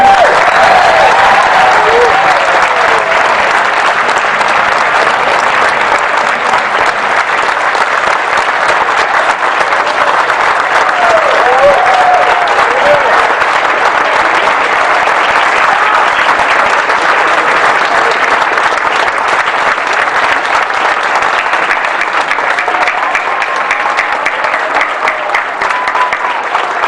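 A room of people at a county commissioners' meeting claps loudly and without a break for a high school football team's state championship, a long, dense, sustained ovation with crowd noise mixed in.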